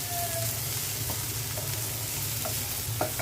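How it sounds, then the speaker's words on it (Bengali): Dried shrimp frying in oil in a pan, a soft steady sizzle with light scraping and stirring taps scattered across it, close but quiet, with no talking. "এখন ভালো করে তেলে নেব।"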